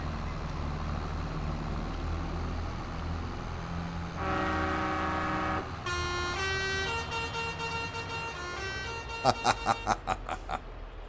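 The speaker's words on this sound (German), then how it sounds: "Die Hupe ist schon geil." A semi-truck horn honks in Farming Simulator 22 on the Erlengrat map, first a long blaring tone, then a multi-tone horn, then a rapid series of short toots, loud over engine rumble with some talking.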